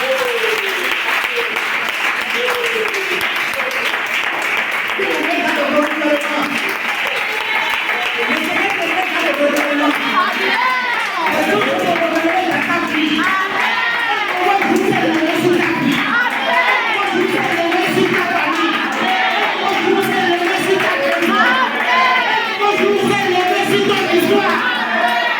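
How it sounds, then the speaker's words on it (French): A church congregation at a Saturday praise service in Saint Jean Baptiste applauds loudly and continuously, with cheering, shouting voices and children's calls mixed into the clapping throughout. "Je voudrais qu'on acclame le Seigneur"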